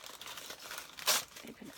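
Crinkling and tearing as a Glossybox beauty subscription package for February 2018 is opened, soft rustling with one brief louder rip near the middle, with a voice faintly present.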